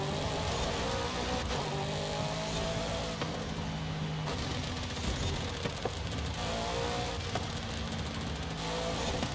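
Engine of a McLaren Sabre driven in the Forza Horizon 5 racing game, a steady droning car engine at moderate loudness that holds a sustained hum throughout with slight swells, no voices over it.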